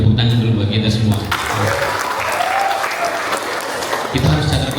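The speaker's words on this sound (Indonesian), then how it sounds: "tepuk tangan dulu buat kita semua" Loud crowd applause fills the room, a dense, continuous clapping that swells and holds for several seconds.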